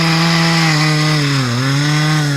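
A new chainsaw cutting a tree runs loud and close with a steady, buzzing engine drone that dips briefly in pitch midway before recovering, alone without voices.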